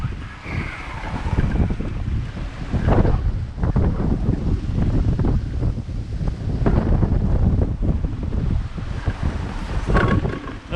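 Steady rush of wind buffeting the microphone on a sailboat under autopilot, with sloshing following waves and hull noise, gusts swelling and easing throughout, no one speaking.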